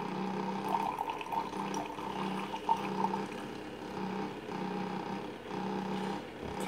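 A Keurig K-Cafe single-cup brewer pours coffee into a cup with a steady, close, low mechanical hum and a thin continuous trickle. No one speaks.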